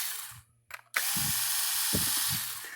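A cordless drill spinning screws out of the plastic casing of a Tru-Test Ezi Weigh 2 livestock scale, a brief whir followed by a sustained high motor whine with low clicking, close up.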